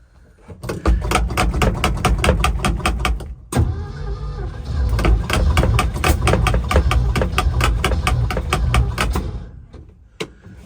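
Ford F600 truck engine, its ignition points just filed, cranking with a fast rhythmic chugging, stopping briefly, then cranking again at length with a loud, close, repetitive beat before cutting off.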